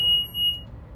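A Bobcat T550 skid steer's ignition is switched on, setting off a steady high electronic warning beep that holds for about half a second, then cuts off, leaving quiet low rumble.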